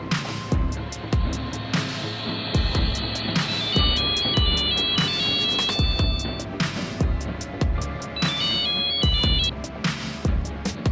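A telephone rings as a woman places an outgoing call that the accused man answers: a repeating electronic melodic ringtone in bursts, set over loud, steady rhythmic background music with thumping beats and no speech.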